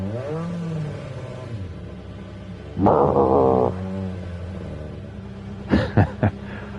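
A Jaguar F-Type Gr.3 race car idles and revs in a racing video game. A sustained rev rises midway, then three quick, sharp throttle blips come near the end over a low engine hum.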